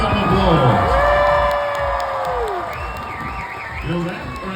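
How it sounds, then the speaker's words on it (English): A rodeo crowd at the Great Geauga County Fair's High Steel Rodeo bull riding cheers, whoops and applauds in a loud, sustained wash that eases slightly midway, with voices carrying over it. "give him a big round of applause"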